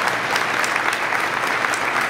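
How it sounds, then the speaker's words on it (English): Dell World 2011 conference audience applauding after a Salesforce.com keynote segment, a steady wash of many hands clapping at even loudness throughout. "Please give a round of applause."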